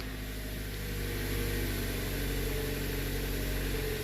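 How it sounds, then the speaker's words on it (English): A 2019 Toyota RAV4 engine starts after an oil change and settles into a steady, moderately quiet hum. The running sound rises slightly early on, then holds evenly, with no talk. "Once I start the vehicle,"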